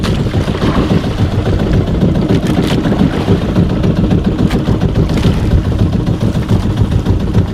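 A fishing boat's engine runs steadily out at sea at night, a loud continuous mid-pitched motor drone with a rough, chugging texture that holds throughout without pause.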